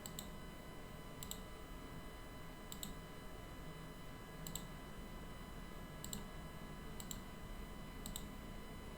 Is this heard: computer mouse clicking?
yes